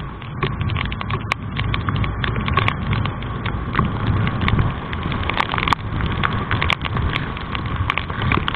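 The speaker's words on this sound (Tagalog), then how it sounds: "Lakas na ng ulan. Oh, lakas na ng ulan." Heavy rain pours steadily and loudly on surfaces during a drive through Taytay, Rizal, a dense unbroken hiss dotted with sharper drop hits and occasional clicks, with no talking.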